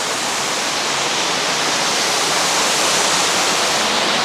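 Water flows into a waterfall inside the St. Beatus Caves in Switzerland, a steady, loud, broad rushing roar that continues without a break, with no voices.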